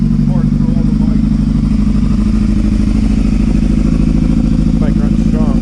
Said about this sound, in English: Bike runs strong.